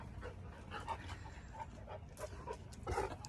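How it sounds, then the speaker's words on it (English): A pet dog pants and whimpers close by, with short yips and breathy bursts in an irregular rhythm, faint and with no talking. "my dog's going off"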